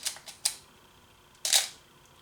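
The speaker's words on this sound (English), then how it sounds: "a little bit slower shutter speed" A Minolta XE film camera's mechanical shutter fires with crisp clicks, a couple of small ticks first, then a sharper snap and a louder, slower clack at a slower shutter speed.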